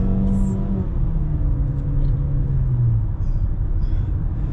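2020 Mazda CX-5 AWD accelerating hard from a stop, a loud, steady engine drone and road rumble heard from inside the cabin, with the engine note sliding lower as it shifts.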